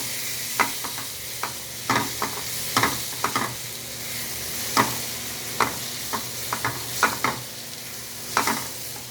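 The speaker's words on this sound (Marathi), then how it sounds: "मालवणी मसाला, लाल तिखट, काश्मीरी लाल पावडर आणि गरम मसाला हे सगळं मी परतून घेत आहे" Malvani masala, red chilli powder, Kashmiri red chilli powder and garam masala sauté in a pan under a soft sizzle, punctuated by a dozen or so sharp, irregular spatula scrapes; no voices.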